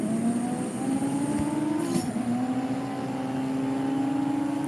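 Porsche Boxster engine in the CSR2 racing game, a steady droning tone that climbs through the gears with a brief shift dip partway, continuous and fairly loud.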